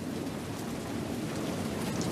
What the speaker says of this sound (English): Now it's starting to rain real hard.